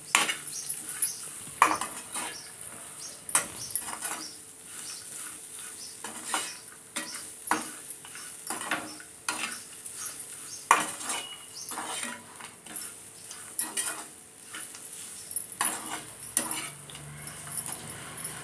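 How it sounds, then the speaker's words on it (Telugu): Grated coconut being roasted in a pan for an ivy gourd (tindora) coconut fry, with a steady stream of metal spoon scrapes and clinks against the pan over a soft sizzle, close and continuous, with no talking. "కొంచెం మన కొబ్బరి మంచిగా రోస్ట్గా కలర్ రావాలండి కొంచెం పచ్చిపోయే వరకు ఇలా వేయించుకున్నాము"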